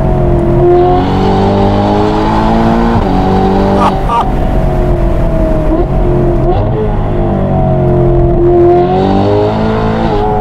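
A Ferrari engine revving hard and accelerating, loud and close throughout, its pitch climbing and falling through gear changes in a continuous roar.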